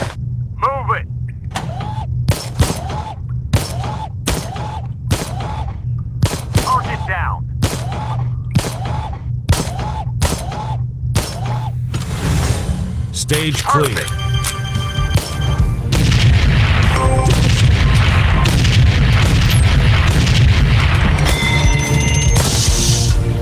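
Rapid gunshots and explosive-round blasts in the VR shooting game Gun Club VR, a steady run of sharp reports followed by denser, louder bursts and crashes, with a voice briefly speaking.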